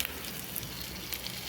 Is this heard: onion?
yes